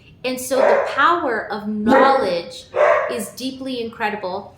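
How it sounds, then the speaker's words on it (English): Puppies bark and yip repeatedly indoors while running around a house at play, heard beneath a person talking steadily throughout. "my puppies are literally running around the house, and they're barking and they're playing"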